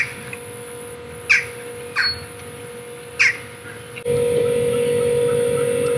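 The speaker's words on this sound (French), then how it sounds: "il y a des petits oiseaux aussi qui mettent un peu de joie" Crows cawing outdoors in Turkey: three distinct caws spaced a second or so apart, mid-distance over a steady background hum that grows louder near the end.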